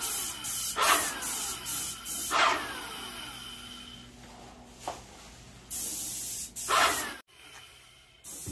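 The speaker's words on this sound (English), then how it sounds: "so while he's spraying that" Spray painting an old desk in a makeshift spray booth: a series of close, loud hissing bursts of varying length, separated by short pauses, with a sharp cut to near silence near the end.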